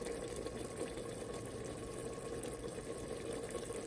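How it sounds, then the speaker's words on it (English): Water pours into a pressure cooker for qeema, a soft, even, fairly faint stream that runs without a break for a few seconds. "now I'm going to add some water to it"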